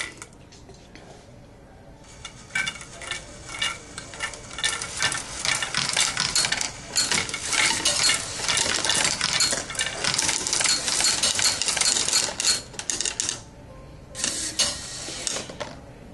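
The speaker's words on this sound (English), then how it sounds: "The ultrasonic rangefinder will see when marbles are present and then turn the wheel on to start picking up the marbles." A VEX robotic marble sorter's spinning wheel picks up marbles, producing a dense, continuous rattle of glass marbles clicking and tumbling against plastic and metal parts, close and steady for most of the stretch, starting and stopping abruptly.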